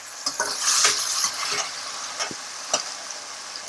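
Tomatoes and drumsticks fry in oil for a hotel-style puli kuzhambu, giving a steady close sizzle broken by the scrape and light clink of a spoon stirring the pan.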